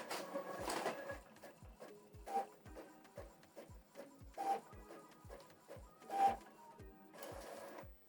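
An Epson ET-4800 inkjet printer printing a single page, with a repeating rhythm of short mechanical clicks and whirring carriage passes, close and steady with no talk.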